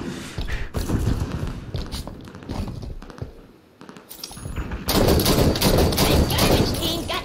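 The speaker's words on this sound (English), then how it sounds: "I'm taking on a sniper with my DMR at the moment." Video game gunfire from a DMR trading shots with a sniper rifle, scattered sharp cracks and thumps in bursts, with a louder sustained stretch of firing near the end.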